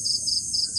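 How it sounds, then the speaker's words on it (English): Crickets chirping at nightfall at a wild camp in Thailand, a dense steady high trill with faint low rustle beneath, no voices. "It's crickets,"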